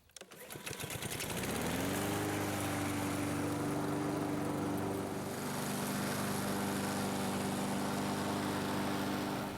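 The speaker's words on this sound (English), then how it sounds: "I'm going to go back through here and mow the high parts again real quick" A reel mower cutting grass: a droning, buzzing hum that rises over the first two seconds, then holds loud and steady at close range with a faint whirring rattle.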